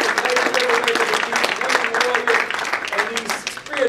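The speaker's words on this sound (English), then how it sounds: "Let's give them a round of applause." Applause for panelists at a community talk in Dayton, Ohio, a dense mix of clapping with voices calling out over it, loud and close and sustained for the whole stretch.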